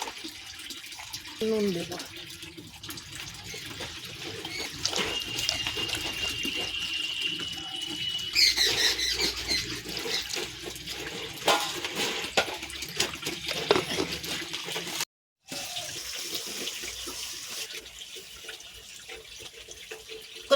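Water runs and splashes into a pot while goat tripe is being cooked, with flowing, trickling and pouring sounds that start and stop, and a voice briefly speaking over it.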